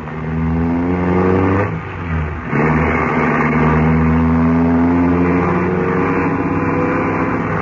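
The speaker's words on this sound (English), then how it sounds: "He isn't going to drive through these narrow streets at this speed, is he?" A car speeds through narrow streets, its engine droning loud and close with a steady, slightly wavering pitch and one brief dip, and no voices heard.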